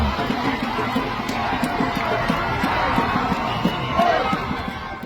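Hundreds of people lining a street in Bissau cheer on a passing presidential motorcade, a dense, steady roar of crowd noise with shouts and whoops rising over it throughout.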